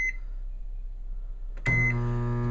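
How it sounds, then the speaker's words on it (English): A microwave oven starts up with a click and settles into a steady low hum, heating chocolate in a glass bowl at half power, with a faint beep just before it begins. "We're going to stick it into the microwave. Set the timer for 30 seconds at half power."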